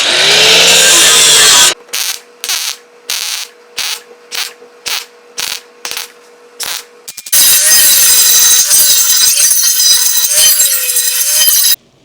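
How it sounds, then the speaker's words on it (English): An angle grinder works welds on a steel bumper for an IH Scout restoration, loud and close: a long grind, then a series of short bursts with brief gaps, then another sustained stretch of grinding. "We're just going to weld them up and grind them."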